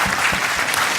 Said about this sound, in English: please give the panelists a round of applause